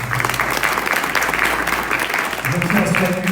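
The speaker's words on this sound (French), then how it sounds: "On applaudit encore chaudement, s'il vous plaît." An audience at a women's fashion design and production event applauds warmly, a dense, steady round of clapping with talk audible underneath.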